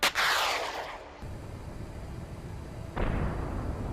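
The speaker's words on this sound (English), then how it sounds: "The Bradley lies in ambush. It launches a TOW missile." A Bradley fighting vehicle fires a TOW missile in a combat setting: a loud, sharp launch blast opens the moment, followed by a rushing roar that trails off, then a second surge of noise near the end.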